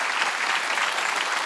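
Brief, steady applause from a church congregation at a Sunday worship service, a dense wash of many hands clapping at once, fairly close and even for about a second and a half.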